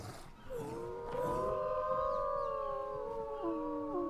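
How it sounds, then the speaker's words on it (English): Several direwolves in the video game ARK Survival Evolved howl together as a pack, long rising and wavering overlapping cries heard clearly for about four seconds with no talk. "a little howl"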